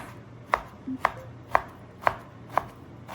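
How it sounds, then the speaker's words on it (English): A knife thinly slicing flank steak on a cutting board, six evenly spaced crisp knocks about half a second apart, close and clear over a quiet background. "So there's my fresh piece of flank steak, which I'm just gonna slice up, just thinly slice."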